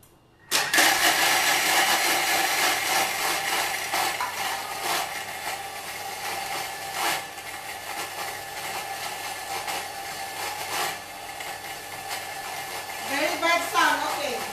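A Thermomix food processor runs at speed 8 for a Malaysian korma and stir-fried French beans recipe, starting abruptly into a loud, steady whirring motor roar that holds for about fourteen seconds with slight fluctuations.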